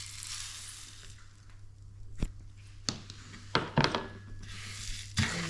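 Peppercorns and seeds stirred in a hot pan, a soft sizzle broken by several sharp clicks and scrapes of a utensil against the pan at irregular intervals, close and fairly quiet.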